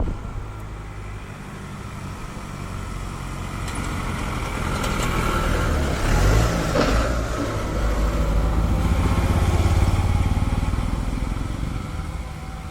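A vehicle climbs a steep hill road beside a cardamom plantation near Mettukuzhi viewpoint in Kattappana, Idukki, its engine drone swelling gradually as it approaches over steady outdoor ambience.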